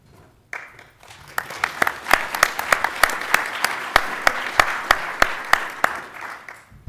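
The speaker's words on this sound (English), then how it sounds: "I appreciate the pre-talk applause." Conference audience applauding before a talk at a space event: scattered clapping begins, then swells into steady applause with sharp, prominent individual claps near the microphone punctuating the crowd.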